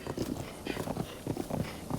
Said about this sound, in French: Ouais, toi t'es bien, toi, cheval.